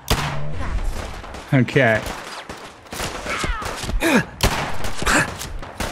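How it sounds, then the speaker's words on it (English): Bursts of gunfire in the video game Fallout 4 as raiders shoot at caravanners, loud repeated shots and volleys with grunting voices mixed in, plus someone briefly talking over the action. "they're shooting at some caravanners"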